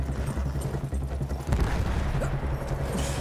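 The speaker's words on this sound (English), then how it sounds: "I'm riding a horse." Horse hooves clatter amid battlefield gunfire and booms in the World War I shooter Battlefield 1, the rapid clip-clop mixed into dense combat noise.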